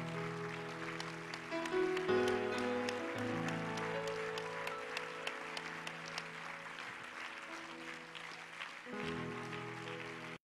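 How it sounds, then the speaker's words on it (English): A church congregation claps their hands together over sustained organ or keyboard chords; the steady, dense clapping carries on for about ten seconds beneath the held musical tones. "Give the Lord a great big hand clap right now and bless his name."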